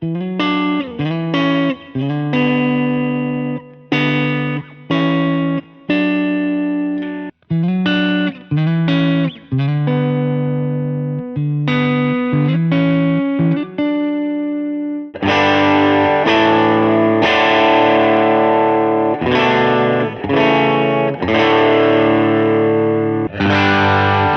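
Distorted electric guitar through a Line 6 Helix Bassman amp model with IR cabinet files plays a series of chords and riffs with amp-like crunch, getting fuller and brighter in the second half, no voices.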